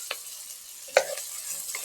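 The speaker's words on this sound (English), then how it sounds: "we're just gonna saute that for just a minute or two, just to release all of that flavor" Fresh spring scallions sautéing in a pan with a steady, moderate sizzle and one sharp stir or scrape near the middle, no voices.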